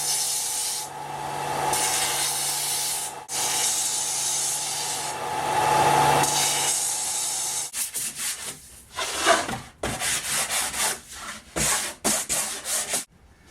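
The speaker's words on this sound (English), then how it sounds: "I'm going to go ahead and sand these edges down so you don't have a sharp edge to wear" Edges of a camper cushion backrest backing being sanded by hand, long steady rubbing strokes up close, then quicker, choppier scrubbing passes toward the end.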